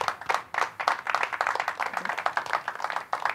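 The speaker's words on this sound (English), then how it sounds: "Let's give them a round of applause." Applause at a St. Baldrick's charity head-shaving fundraiser event, a steady patter of individual claps with an uneven rhythm, close and moderately loud, continuing alone for a few seconds.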